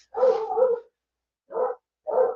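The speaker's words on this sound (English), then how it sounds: "I got this dog barking next door." A neighbor's dog next door lets out three muffled barks, one longer double bark followed by two short ones, heard from a distance with silence between.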